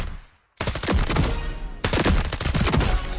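Rapid automatic gunfire from the video game FragPunk, loud and close, in two dense sustained bursts separated by a brief silence.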